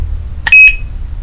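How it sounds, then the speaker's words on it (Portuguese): A padlock with a built-in alarm lets out a single short, loud electronic beep, close by and alone, over a low background hum. "Se você abrir novamente, puxar, ele ativa o alarme."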